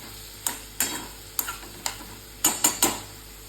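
Green tomatoes cooking soft in a pan over low heat, with a series of sharp scraping and tapping stirs, about eight close strokes at uneven intervals over a faint steady background hiss.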